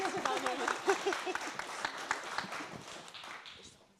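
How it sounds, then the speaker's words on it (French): A small group claps briefly after a conference talk on climate adaptation, a short scattered burst that fades out under a background of voices and room noise. "je me permets d'applaudir"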